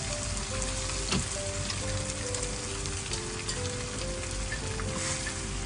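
Sauce sizzles loudly in a hot pan while being stirred into food for a bento lunch, a steady dense frying crackle with a faint tonal line running underneath.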